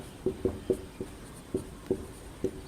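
Handwriting on paper while solving a Class 8 square root maths problem: a series of soft, irregular pen taps and short strokes, close and quiet, with no talking.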